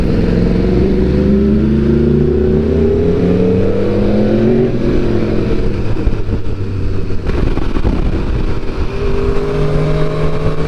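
An Aprilia RSV4 motorcycle engine revs and pulls hard, its rising and falling harmonics loud and continuous throughout, sounding close and steady with no talk over it.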